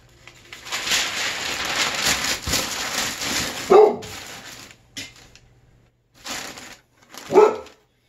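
A dog barks in a few sharp, loud bursts close by, separated by pauses, with some background clatter and faint voices in a room where a glass lamp shade is being packed.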